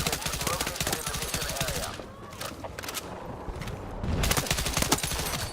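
Burst gunfire in Battlefield 6: rapid automatic bursts crackling close and loud, a short lull of scattered shots and footsteps, then another heavy burst, with faint voices underneath.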